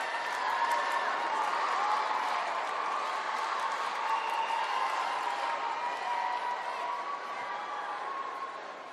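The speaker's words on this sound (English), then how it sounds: "To a huge roar from the crowd in the Pala Vesuvio" Crowd roaring and cheering in the Pala Vesuvio arena as a rhythmic gymnast takes the competition floor, a continuous loud wash of massed voices and whistles that holds steady and eases slightly at the end.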